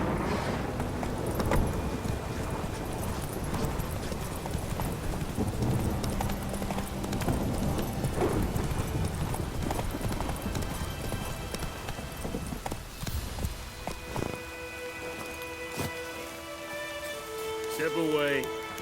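Horse hooves clip-clopping at a steady gallop rhythm in The Witcher 3 video game, continuous and fairly close, with game dialogue and background sounds mixed in.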